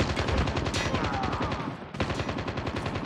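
Rapid automatic gunfire rattles through a Call of Duty: Mobile multiplayer Frontline match, loud and close, in dense continuous bursts with one brief break midway before the shooting resumes.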